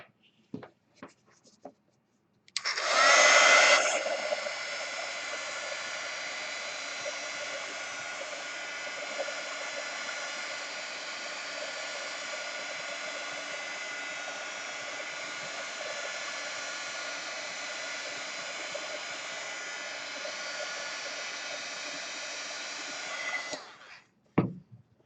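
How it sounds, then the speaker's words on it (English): A hair dryer blows on wet paint on an artwork, starting with a brief louder burst and then holding a steady, close, continuous whoosh for about twenty seconds before cutting off. "I think I'm going to dry this again."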